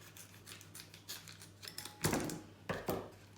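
Several crisp snips and crinkles of scissors cutting open a halloumi package, close and fairly quiet, ending in a couple of louder rustling cuts.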